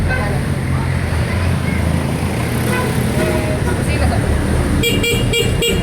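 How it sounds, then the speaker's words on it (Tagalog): A few short, loud honks of a stock Honda Click 125 v4 scooter horn ring out in quick succession at the end over a constant rumble of engine and street noise. "malakas din ang stock na busina"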